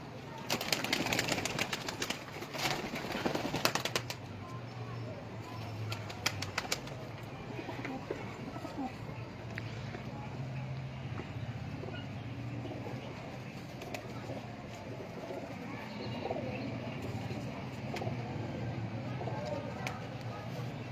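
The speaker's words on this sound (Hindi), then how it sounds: "माशाल्लाह तगड़े कबूतर हैं जी" Sturdy pigeons for sale coo softly and shuffle, with a burst of wing flapping early on, under continuous faint background noise and some talk.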